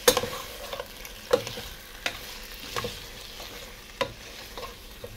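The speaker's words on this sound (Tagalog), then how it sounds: "Ayan, lagyan natin ng kamatis. Kunting halo." Tomato being stirred into chicken sinigang in a pot: a few distinct scraping strokes of a utensil against the pot over a steady soft simmering sizzle, close up and without speech.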